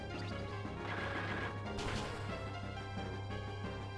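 Critical hit strike from a Pokemon Platinum battle, a loud crashing smash with a sharp burst near the two-second mark, layered over continuous game music with no talk.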